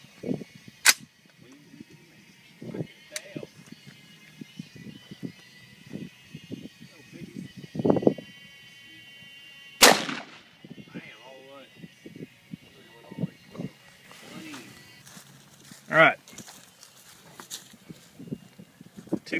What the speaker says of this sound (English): shooting a 55 grain full metal jacket